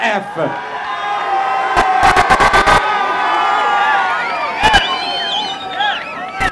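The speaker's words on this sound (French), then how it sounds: "j'aimerais qu'on accueille avec des huées le prochain frappeur de l'équipe de la WWF." Spectators at a 1988 softball game raise a loud crowd racket of shouting and whooping aimed at the incoming batter, with rising and falling vocal cries and a few sharp bangs over a steady roar.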